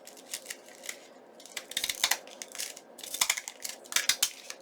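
Painting shears cut through wrapping paper close to the mic, making repeated crisp snipping and crinkling sounds in uneven bursts with no talk.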